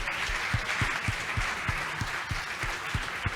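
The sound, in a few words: audience applause at an awards ceremony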